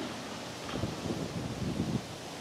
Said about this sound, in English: Right now it is pretty steadily windy.